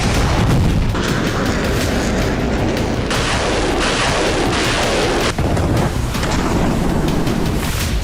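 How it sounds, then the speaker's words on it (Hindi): Russian missile strike explosions in Kyiv, Ukraine, in news footage: loud repeated booms and blasts over a dense rumbling roar, continuous and harsh, with no speech. "रूसी सेना ने कीव के कई इलाकों में मिसाइल हमले किए।"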